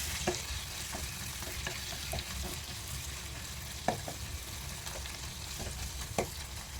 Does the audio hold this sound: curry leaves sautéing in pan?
yes